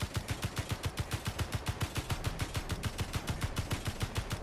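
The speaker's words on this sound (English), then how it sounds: "There's one and two turrets I'm shooting at." Rapid automatic gunfire in Space Engineers as a player shoots at turrets during a raid on a moon base, a steady stream of sharp, evenly spaced shots that runs loud and unbroken throughout.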